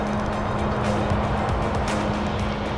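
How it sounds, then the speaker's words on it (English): An aircraft on the runway slows with thrust reversers extended and brakes applied, giving a loud, continuous broadband roar with a steady low tone throughout. "The pilot stops the aircraft, setting the thrust levers to idle, then extending the thrust reversers and braking."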